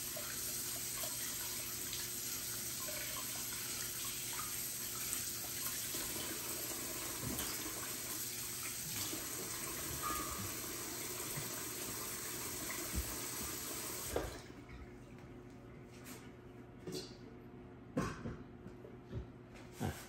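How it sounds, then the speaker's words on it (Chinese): Kitchen tap water runs steadily into a sink while hands are washed, a continuous close splashing flow that cuts off near the end, leaving a few drips and small knocks. "好，而家我哋洗一洗隻手先。"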